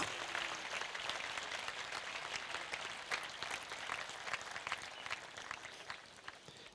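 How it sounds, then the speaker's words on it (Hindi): Congregation applauding during a Good Friday sermon in church: dense, continuous clapping from a crowd, fairly close, holding steady for several seconds and tapering slightly at the end, with no talk over it. "आओ यीशु नासरी के लिए भरपूर तालियां।"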